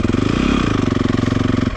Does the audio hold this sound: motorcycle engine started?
yes